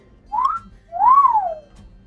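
Two loud whistles close by: a short rising note, then a longer swooping wolf-whistle that rises and falls.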